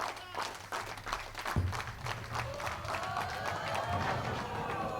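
Audience applause at a televised bowling final, a broad wash of clapping from the crowd that holds steady throughout, with a brief thump partway through.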